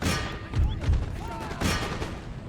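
Musket volley fire in the battle game Empire Total War: several heavy, crackling gunfire bursts and thuds in quick succession within a thick, rumbling battlefield din.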